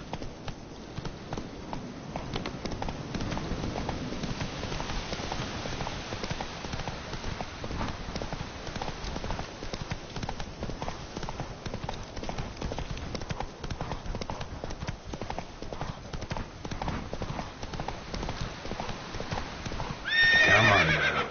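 Horse hooves clip-clop at a fast, steady gallop in a video game, with a neigh near the end, continuous and fairly loud.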